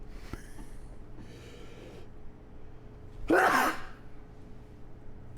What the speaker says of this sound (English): once I start playing, the sneezes arrive